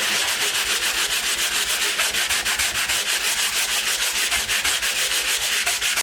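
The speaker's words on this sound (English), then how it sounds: "I'll sand it down to almost smooth." Spackle on a bathroom wall is sanded by hand in quick, regular back-and-forth strokes, a close, loud, gritty rasping that repeats about five times a second for the whole stretch.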